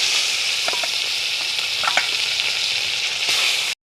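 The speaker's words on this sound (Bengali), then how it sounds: "তেলটা গরম হয়ে গেছে, মাছগুলোকে দিয়ে দিলাম কড়াইতে।" Fish fries in hot oil in a wok, giving a loud, steady sizzle with a few clinks of a utensil, then stopping abruptly near the end.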